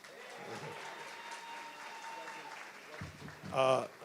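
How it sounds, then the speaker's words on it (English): Soft, distant applause for a graduating student fills a hall at the CT State Capital 2025 commencement as a steady low wash. A voice briefly rises over it near the end. "a quick round of applause for all the business and technology graduates"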